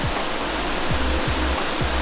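A waterfall rushes in a steady, loud broadband roar with no breaks, and a few low thumps from handling or wind sit underneath it.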